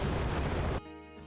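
A video game explosion sound effect: a short, loud burst with a dense roar that stops sharply after under a second, leaving a faint fading tail.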